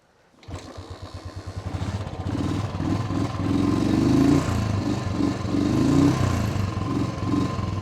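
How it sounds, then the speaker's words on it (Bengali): A cold motorcycle engine, left standing a whole day in the cold, cranks with rapid clatter, catches and settles into a loud, steady idle with slight revving, close by, outside a hotel in Pelling. "চলো বাইক স্টার্ট হয়ে গেছে"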